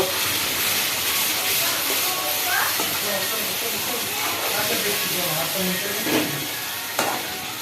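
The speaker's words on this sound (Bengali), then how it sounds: "এবারে আমি ভালো করে কষিয়ে নেব" Chicken with capsicum paste frying in a pan, a constant loud hiss and sizzle with occasional stirring scrapes, while a voice talks over it.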